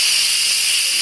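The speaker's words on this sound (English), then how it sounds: "you're going to flip it, and it's going to let out steam" An Instant Pot electric pressure cooker venting steam through its release valve after cooking taco filling, a loud, steady, high hiss that runs unbroken from start to finish with no talking.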